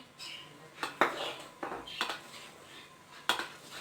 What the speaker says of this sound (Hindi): इसमें अब मैं अपना मैदा डालकर इसको अच्छी तरह से फोल्ड करूंगी